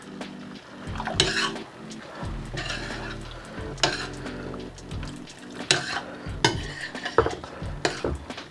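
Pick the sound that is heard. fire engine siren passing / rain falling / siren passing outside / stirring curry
stirring curry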